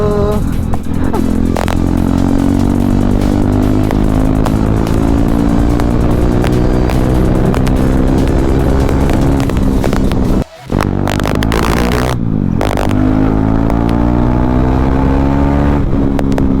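A 2019 KTM Duke 390 motorcycle engine roars continuously up close on a test ride, pitch rising and falling as it revs and shifts gears, with a brief dip partway through.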